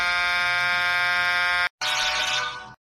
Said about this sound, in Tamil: வெளியில வண்டி சத்தம் கேக்கு.